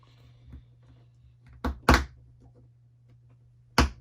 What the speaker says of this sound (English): So these two snap together.